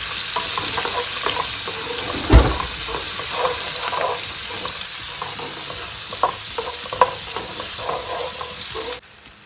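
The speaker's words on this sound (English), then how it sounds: "2 onions which I have roughly chopped. Just going to cook this for 5 minutes until they start to get some color." Roughly chopped onions fry in a pan with a steady, bright sizzle, broken by the scrape and clatter of a utensil stirring, including one heavier knock early on, before the sizzling cuts off near the end.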